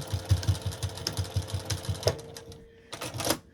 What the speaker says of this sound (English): just go right back to the beginning and give a back stitch